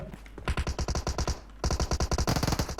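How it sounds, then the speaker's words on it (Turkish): Rapid automatic gunfire from a PUBG Mobile match rattles in two quick bursts of evenly spaced shots, loud and fairly near, with no one talking over it. "Birisi bir yerden sıkıyor."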